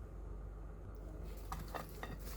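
Oil, salt and black pepper seasoning for lamb chops are stirred together in a bowl, giving quiet clinks and scrapes of a utensil against the dish, with a few sharper taps toward the end.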